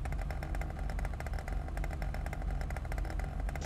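Motorcycle engine in the GTA V video game, a steady mid-pitched idle with a faint clattering rhythm, running continuously and fairly loud with no talk over it.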